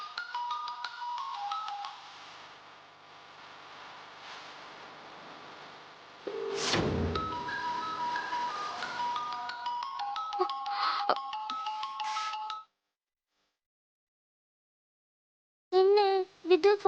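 An unanswered mobile phone in a Tamil TV drama scene plays a repeating electronic ringtone melody for about twelve seconds. It cuts off, and after a pause a short burst of tones follows.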